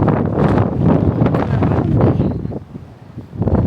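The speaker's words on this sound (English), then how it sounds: "It's just a bit windy" Strong wind buffets the microphone in rough gusts on a street in Tallinn, Estonia, a loud rumbling roar that rises and falls throughout.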